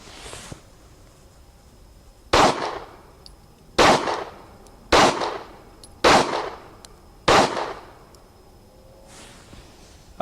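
Five loud, sharp pistol shots from an S&W M&P Shield 9mm fired at outdoor targets, spaced about a second or more apart, each with a short ringing echo tail and no talking.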